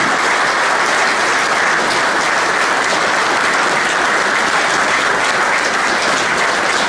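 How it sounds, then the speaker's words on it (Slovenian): Loud, dense audience applause at an association's 25th anniversary gathering, a continuous wall of many hands clapping close and even throughout with no talk over it. "zahvalimo z močnejšim aplavzom"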